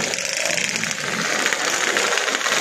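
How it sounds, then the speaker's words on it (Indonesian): A stock Yamaha RX King 135cc motorcycle engine runs at a racing event, a continuous rough mechanical drone with a rattling edge, fairly close and loud throughout. "Engine on."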